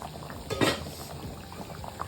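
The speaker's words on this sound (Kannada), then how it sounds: "ಚೆನ್ನಾಗಿ ಕುದಿ ಬರ್ತಾ ಇದೆ." Village-style chicken curry bubbles in a covered pot over a medium flame, a faint and continuous simmer with one louder gurgling burst near the start.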